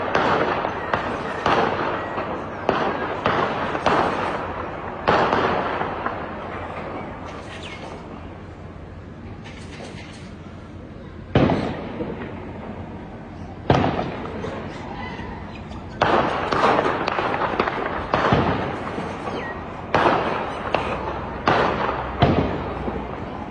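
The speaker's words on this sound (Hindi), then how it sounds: "इस रेड के दौरान गोलीबारी हो रही है, झड़प हो रही है।" Sharp bursts of gunfire crack out during a raid and clash, loud repeated bangs in irregular clusters with quieter gaps between, some reports near and others more distant, with faint voices underneath.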